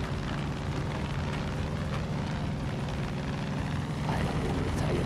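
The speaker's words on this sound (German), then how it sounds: "Uns verfolgt jetzt nicht gerade ein Heli." Helicopter chasing the player in the video game Far Cry 5, a loud rumbling rotor and engine roar with rapid chopping pulses, continuous and close throughout, no speech.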